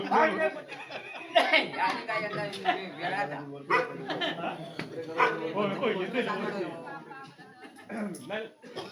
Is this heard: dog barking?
yes